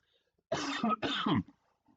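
Two bursts of harsh throat clearing and coughing, close and loud, back to back, with a softer trailing cough and near silence around them.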